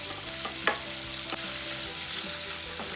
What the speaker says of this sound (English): saute it over high flame